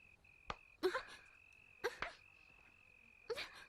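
Three sharp hand claps swatting mosquitoes indoors at night, spaced about a second apart, each followed by a brief voiced grunt, over a steady high insect-like whine.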